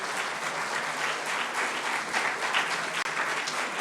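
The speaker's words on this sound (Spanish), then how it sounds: "dele una ofrenda de palmas a nuestro Señor" Steady applause from a church congregation during a Spanish-language sermon, a dense continuous patter of many hands clapping for a few seconds with no voices over it.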